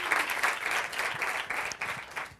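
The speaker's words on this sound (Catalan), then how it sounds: "m'agradaria rebre'ls amb aquest fort aplaudiment" Strong applause from an audience of schoolchildren welcoming a class team at a spelling contest semifinal, a dense crackle of many hands clapping, lively and sustained, fading slightly at the end.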